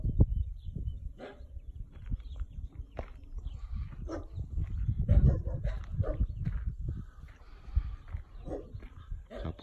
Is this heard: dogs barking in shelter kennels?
yes